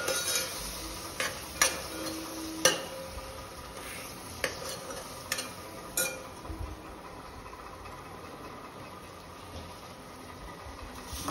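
Khandeshi khichdi ingredients with chili flakes being stirred in a pan, a faint low sizzle broken by scattered scrapes and clinks of a spoon against metal that fade toward the end.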